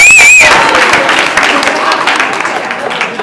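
A crowd at a haiku deathmatch breaks into applause, a thick wash of clapping and cheering that starts loud, with a brief whistle at the outset, then tapers gradually.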